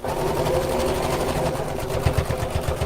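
A domestic sewing machine without a free arm runs steadily, stitching a bag seam with a continuous motor whir and fast needle chatter, close and moderately loud, with a few louder thumps near the end.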